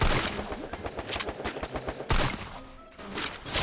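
Rapid automatic gunfire in the Free Fire video game, loud close bursts of shots in quick rhythm, a pause, then another sustained volley.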